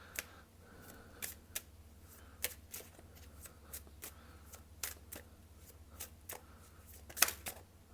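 Tarot cards handled for a reading, with soft crisp snaps and flicks of shuffling arriving in irregular bursts, quiet and close with no talk.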